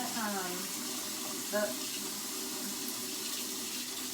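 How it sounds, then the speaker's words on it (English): Tap water runs steadily into an orange cooking pot at a kitchen sink, a continuous broadband rush, with a brief voice and some clatter near the start. "I need to put water in it to start boiling"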